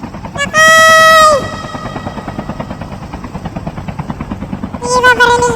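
A helicopter approaches in a video game, its rotor beating in a steady, rapid chop throughout while players shout excitedly over it.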